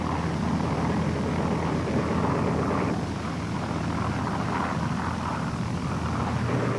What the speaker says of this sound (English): the American planes met a wall of anti-aircraft fire